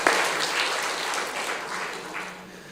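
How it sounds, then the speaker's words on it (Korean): A church congregation in Korea gives sustained, even applause of encouragement for an elderly mother in the pews, a steady wash of many hands clapping at moderate distance. "여러분 한번 격려의 박수 해주시면 좋겠는데요"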